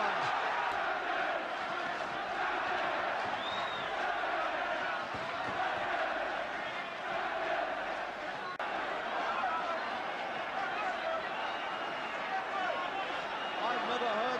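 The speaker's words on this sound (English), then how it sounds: "I've never heard such excitement in my life as this crowd is creating here" A boxing arena crowd roars continuously and excitedly throughout a title fight, loud and sustained, with a commentator talking over it.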